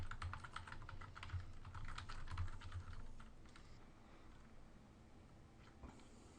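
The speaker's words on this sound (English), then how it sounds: "So I'm going to type that in real quick." Quiet, steady typing on a computer keyboard while entering text into a Word document, light keystrokes in quick runs over a low background hum, slowing toward the end.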